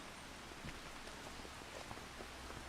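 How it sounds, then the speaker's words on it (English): Rain falls steadily in Farming Simulator 25, a soft continuous hiss broken by scattered, distinct droplet patters, heard alone at low volume with no talking. "Sounds like rain, not hail."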